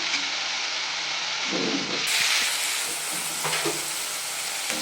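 Avalakki (flattened rice) sizzles and fries steadily in a pan with salt being added, a close, continuous hiss broken by soft stirring scrapes, with no talking.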